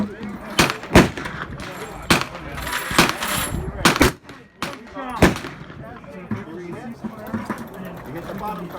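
Handgun shots at an outdoor shooting range, about a dozen sharp, loud cracks spaced irregularly, some in quick pairs, with an instructor's voice talking between and under them.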